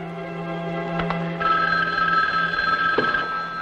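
A telephone rings in an indoor room, a steady electronic bell tone that holds for several seconds, with a few sharp clicks mixed in and no talk over it.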